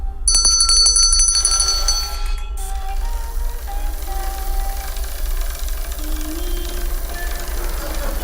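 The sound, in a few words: bell ringing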